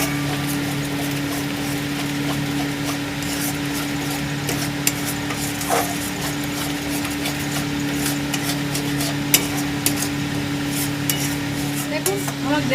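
Yogurt being stirred into egg korma gravy in a pan: steady scraping stir strokes with faint sizzling and occasional utensil clinks over a constant low hum, close by, without talk.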